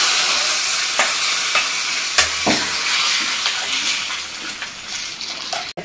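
Hot oil tempering for rasam sizzling and spattering continuously, with scattered sharp crackles and a splash near the start, fading slightly toward the end.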